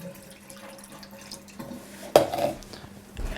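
Water splashes and pours into a metal tray in the bottom of an oven after a quiet hum, a brief gush followed by a softer trickle.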